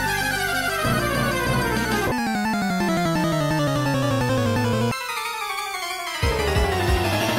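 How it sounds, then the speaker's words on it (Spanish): Pokémon video game battle intro music plays clearly for several seconds, with fast chromatic runs of bright synthesized notes sweeping across successive bursts, loud and without any voice. "Todo combate Pokémon empieza con un fragmento de 2 o 3 segundos que suena más o menos así."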